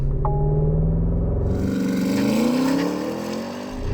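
A Porsche Cayenne Turbo GT with an 8-speed automatic and all-wheel drive launches hard from standstill, its engine roaring loud and near and climbing through rising revs with brief dips at upshifts.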